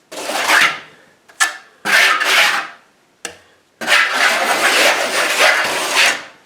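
A trowel scrapes gritty texture compound across a wall in a skip-trowel finish, giving repeated rasping strokes in close, loud bursts with short pauses, then a longer sustained scrape.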